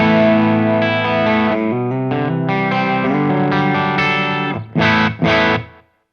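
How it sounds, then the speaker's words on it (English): Guitar through a Way Huge Atreides fuzz and envelope filter pedal, sweeping wah-like notes and chords up close, ending with two short stabs and a fade. "It's a fuzz and an envelope filter"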